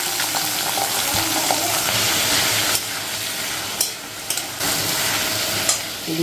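Khero posto, a poppy seed dish, is stirred and fried in a pan in a home kitchen, giving a loud continuous sizzle with scraping stirring strokes and occasional clinks of the utensil.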